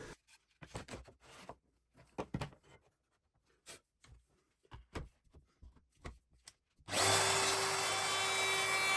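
A router cuts a slot through wood, starting suddenly as a loud, steady high whine that lasts a couple of seconds after a run of scattered knocks and handling clatter.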